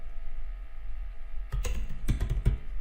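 Typing on a computer keyboard into a Canva search bar: a short cluster of quick, close key clicks after a quiet hum, irregular taps lasting about a second, no speech.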